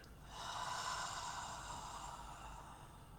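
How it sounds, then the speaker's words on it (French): A single long, deep breath fills the moment, a steady airy rush close to the microphone with no talking, as part of guided relaxation breathing. "on inspire, on maintient l'air quelques instants et on expire"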